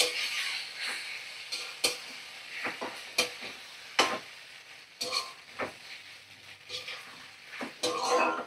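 Boiled, lightly salted pasta gets stirred and tossed in a pan over a gas flame, giving a soft sizzle with repeated scrapes and clinks of the spoon against the metal, close by, with a voice speaking at times.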